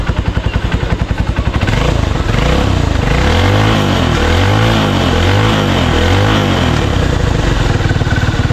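A motorcycle engine runs close by, starting with a rapid clattering beat and then settling into a loud, steady, throbbing idle with a rhythmic pulsing, and no talk over it.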